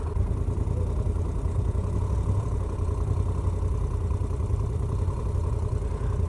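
A 2018 Moto Guzzi Audace motorcycle engine idles steadily, a continuous low, throbbing rumble heard up close with no talk.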